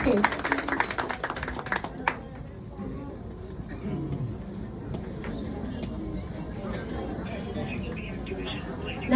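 An audience claps at a lucky draw held for a silk shop's golden jubilee, a short burst of applause at the start that fades into crowd murmur and room noise.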